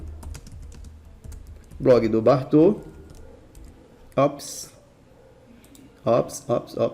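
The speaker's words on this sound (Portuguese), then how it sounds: "Como eu falei, eu estou me adaptando nesse teclado." Someone types on a computer keyboard while setting up WordPress on Windows, giving short bursts of close clicking keystrokes between stretches of Portuguese speech.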